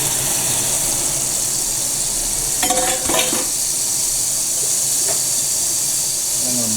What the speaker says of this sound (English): Some oil, get some oil going. Throw in some garlic.